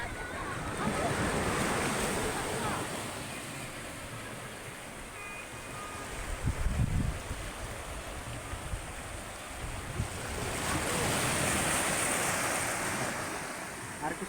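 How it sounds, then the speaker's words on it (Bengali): Sea waves break and wash on a shore in a steady roar, swelling louder toward the end, with wind buffeting the microphone and a brief low thump midway. "ঢেউটা আসছে জোরে জোরে"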